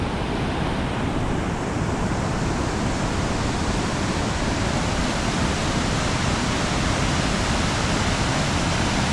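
Rushing mountain stream water in the North Cascades, a steady loud broadband wash that holds constant and close throughout with no voices.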